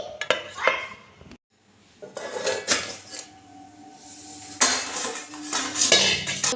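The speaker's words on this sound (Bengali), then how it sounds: "কড়ার মধ্যে নুন দিয়ে দিয়েছি, নিয়ে এর মধ্যে একটা স্ট্যান্ড দিয়ে আমি কেকের টিনটা বসিয়ে দেবো। এরপর একটা ঢাকা দিয়ে দেবো।" A metal cake tin is set onto a stand inside a salted pot and a lid is placed on top, giving clattering metallic knocks and scrapes of cookware in bursts, close and fairly loud, with a short silent gap early on.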